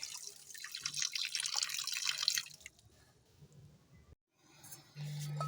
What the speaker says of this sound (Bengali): যাই হোক একটু ভালো করে কচলে কচলে ধুতে হবে, যে আস্তে গন্ধটা চলে যায়